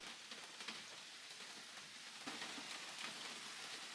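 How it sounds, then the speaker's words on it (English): Rain falls outside a room, a continuous hiss of drops striking surfaces with small patters and fluctuations, fairly close and steady, with no talking. "It's really raining now. Can you hear that rain?"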